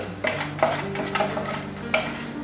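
White urad dal stirred and roasted in a pan until golden brown, with a steady soft sizzle under repeated scraping strokes of a spoon; close and moderately loud, no talking.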